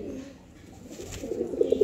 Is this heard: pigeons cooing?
yes